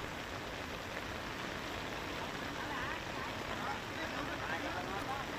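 Heavy monsoon rain over Saurashtra, Gujarat, with flood water rushing across the roads: a dense, unbroken wash of rain and flowing water at a moderate, even level.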